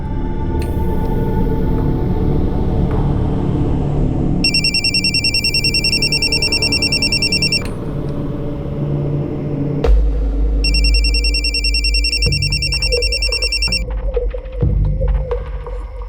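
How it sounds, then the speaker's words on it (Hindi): A telephone rings in two long electronic trills separated by a pause, over a low hum and background noise, with no one answering. "फोन क्यों नहीं उठा रही?"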